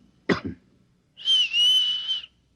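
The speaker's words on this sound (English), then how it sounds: "I'll cough twice, like this. And you whistle back." Two quick human coughs, close and abrupt, followed after a short gap by a sustained high whistle lasting about a second with a slight wavering pitch.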